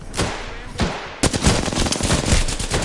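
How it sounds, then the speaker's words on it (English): Apex Legends gunfire from a Flatline rifle, a couple of sharp shots followed by a loud rapid automatic burst, close and dominant. "Shots fired."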